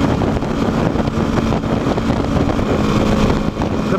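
A Beta 390 RRS dirt bike engine buzzes continuously while it is ridden, with a steady drone close to the microphone under gusts of wind noise.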